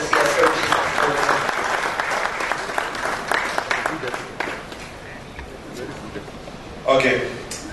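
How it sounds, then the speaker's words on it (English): A conference audience applauds as a speaker walks to the podium, dense steady clapping that gradually thins and fades, with a brief renewed swell near the end amid crowd murmur. "Please, another round of applause as he approaches the podium."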